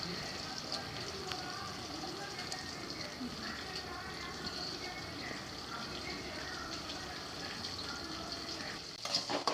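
Tomatoes frying in a pan for kara kuzhambu give off a steady, dense hiss that holds evenly throughout, with a brief burst of stirring scrapes right at the end and a voice talking over it.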